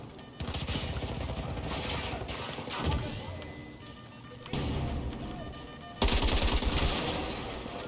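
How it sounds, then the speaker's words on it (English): Rapid automatic gunfire rattles close and loud in Battlefield, in bursts broken by brief mechanical clatter of weapon handling, with the firing surging again near the end. "Reloading!"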